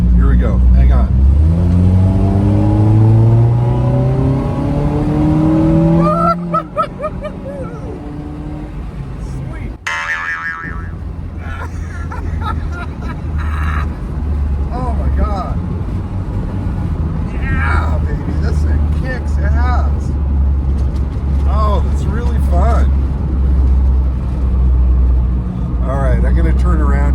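Twin-engine Honda CRX at full throttle, engine note climbing in rising harmonic sweeps for several seconds, then a gear change, with a loud steady drone and road rumble continuing while people talk in the cabin.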